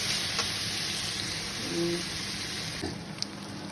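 Curry leaves crackle and sizzle in hot oil as they are tempered for chicken fried rice, a soft steady frying hiss with small pops, heard close and fairly quiet.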